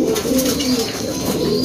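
Pigeons coo close by at a bird sale in Ilagan, Isabela, producing loud, low, rolling coos that overlap continuously without a break.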